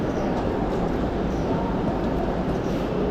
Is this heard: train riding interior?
yes